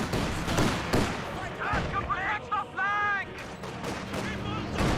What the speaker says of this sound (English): T-70 firing away, getting some shots there onto the mechanical worker